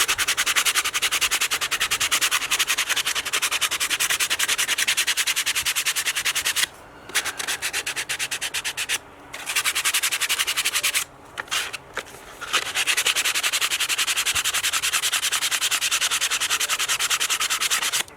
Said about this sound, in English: So the next step is to sand the edges of these MDF boards.